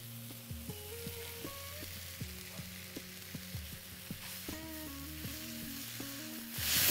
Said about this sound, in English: Just going to saute it.